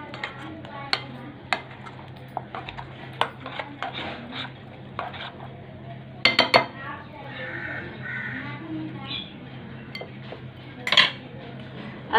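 Spoon clinking against a bowl while masala is mixed with lemon juice for a chicken roast, a run of light irregular taps and scrapes with a few sharper clinks, close and moderately quiet over a low steady hum.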